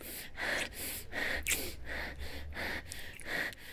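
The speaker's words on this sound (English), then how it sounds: "You know, that's some loud breathing there." A character in a video game breathes loudly and heavily, with rhythmic gasping inhales and exhales repeating about every half second, close and prominent.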